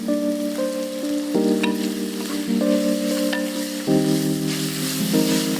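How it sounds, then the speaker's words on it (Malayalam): Onions sautéing in coconut oil with curry leaves give a steady, close sizzle that runs the whole time beneath a bed of sustained tonal music. "വെളിച്ചെണ്ണ കിടന്ന് ഉള്ളി വഴറ്റുമ്പോൾ അത്യാവശ്യം ഒരു സാധനം കറിവേപ്പില"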